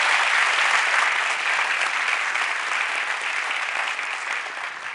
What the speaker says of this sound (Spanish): Yo también le aplaudiría a Vicente Espinel porque 426 años y sigue igualita